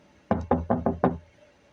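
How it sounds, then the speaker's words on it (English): Someone knocks on a dorm room door five times in a quick, even series of sharp, close raps, then silence. "She knocked on the door."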